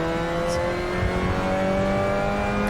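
Spec Miata MX-5 Cup race car engine in a racing video game on the Castrol Raceway track, a loud, steady high-revving drone held at constant pitch with no voices.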